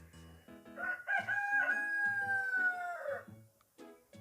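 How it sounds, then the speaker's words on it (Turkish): A single long rooster crow rings out close and loud, rising and then trailing off over about two seconds, with a few short clucking notes before it and quiet afterward. "Benim horoz yine ötüyor arkadaşlar."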